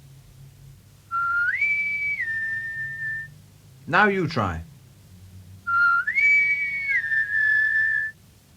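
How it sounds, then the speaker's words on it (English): A person whistles a rising note that holds steady, then briefly speaks, then whistles the same tune again, close and clear. "If you want the wind, you must whistle for the wind"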